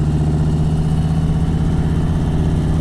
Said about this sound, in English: Bike's running good though.